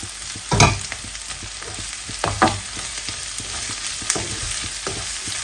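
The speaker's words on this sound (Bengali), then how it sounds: "পেঁয়াজ আর রসুনটা আর বেশি আসলে ভাজবো না ভিতরে আমি ব্রকুলিগুলো দিয়ে দিব" Broccoli is tipped into oil with onion and garlic, crackling into a busy sizzle punctuated by several louder stirring bursts and scrapes as the pan is worked, with no talking.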